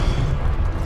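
A spell cast in the Hogwarts Legacy video game, a deep booming magical blast with a sustained low rumble over roughly a second, loud and close with no talk.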